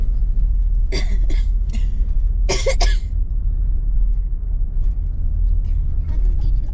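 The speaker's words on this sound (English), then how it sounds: "How come you two cough at the same time?" Coughs come in two short bursts during an evening drive, heard over the steady low rumble of the moving car.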